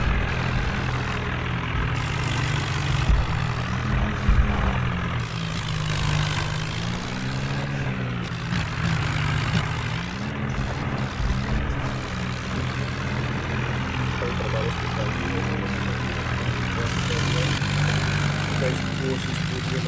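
Two tractors, one of them a 3600, working together to pull something out, their engines droning heavily and rising and falling under load for a long stretch, with people talking over the rumble.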